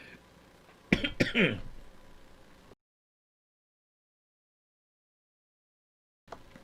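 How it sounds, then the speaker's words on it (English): A short burst of coughing and throat clearing, close and fairly loud, followed by sudden silence. "Sorry, I had a problem swallowing there."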